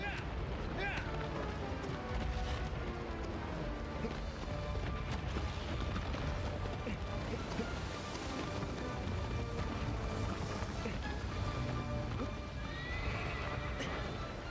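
Horse in the video game Shadow of the Colossus, with neighs and whinnies over steady clip-clop hoofbeats, continuous and fairly loud against busy game music and effects.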